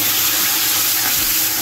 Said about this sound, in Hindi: यहाँ पर मैं थोड़ा सा गर्म पानी डाल रही हूँ